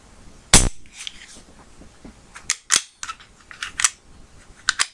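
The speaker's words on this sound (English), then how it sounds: "You can see where the trigger actually resets, and there's only that much travel still left in it." A Glock pistol's trigger gives one sharp, loud click, followed by a series of lighter, quicker clicks as the trigger is worked and resets, all close-up with quiet gaps between.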